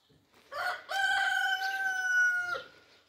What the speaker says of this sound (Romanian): Cred că cocoșii vorbesc între ei.